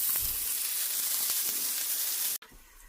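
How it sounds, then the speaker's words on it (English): Flounder fillets frying in a pan, a steady bright sizzle that holds evenly for over two seconds before cutting off abruptly. "I'm trying to brown them on both sides, get them a little crispy, and then I'll take them out of the pan"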